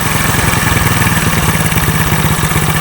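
A motorcycle engine idles loud and close with a steady, even chug while its carburetor is being tuned, continuous throughout with no talk.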